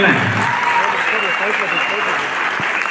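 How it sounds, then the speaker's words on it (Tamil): A school audience at a teacher award function in Gudalur and Ooty claps steadily, a dense, loud, continuous applause filling the whole stretch, with voices faintly mixed in. "ஸ்கூல்ல நல்ல கைத்தட்டுங்களேன்"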